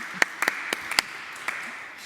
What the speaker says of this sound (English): A round of applause for Tracy.